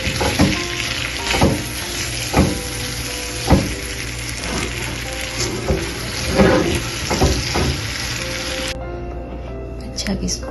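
About a teaspoon of butter sizzles in a pan on the stove while being stirred, a continuous frying hiss broken by scraping taps of the spoon, with a person talking over it.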